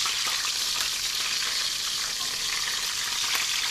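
Bay leaf, cinnamon and green chillies sautéing in hot oil for chicken biryani, a steady, bright, continuous sizzle and crackle from the pan with no talking.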